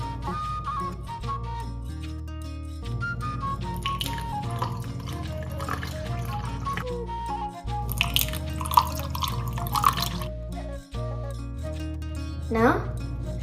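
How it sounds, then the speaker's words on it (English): Iced tea is poured into a glass of ice in a steady trickling stream with a few dripping splashes. Music plays underneath and a person speaks over it. "Now I'm going to pour in the iced tea."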